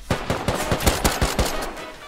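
Rapid automatic gunfire in Rust, a close, steady string of sharp shots lasting about two seconds.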